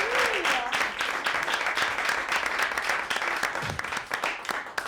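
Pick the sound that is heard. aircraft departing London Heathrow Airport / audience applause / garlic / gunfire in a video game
audience applause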